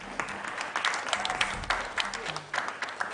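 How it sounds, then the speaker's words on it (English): An audience at a school quiz competition applauds, giving dense, steady clapping from many hands for a few seconds, with no talk over it. "A round of applause, ladies and gentlemen."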